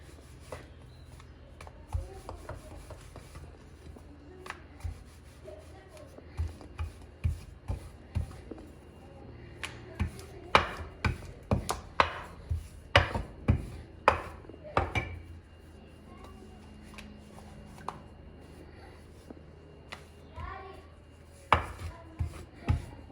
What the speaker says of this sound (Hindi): यहाँ पे मैं रोटी अभी बेल लेती हूँ अपनी।